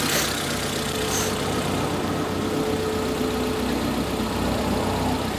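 A Proton Wira car engine idles steadily and close, running evenly without an obvious misfire; a continuous mechanical hum with no voices.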